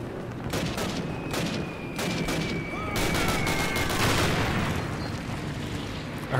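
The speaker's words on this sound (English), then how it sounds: "I heard a grenade." Grenade blast in a Call of Duty match, heard as a dense burst of booming gunfire and explosive cracks that builds toward the end, with several sharp hits layered over a constant loud battle din.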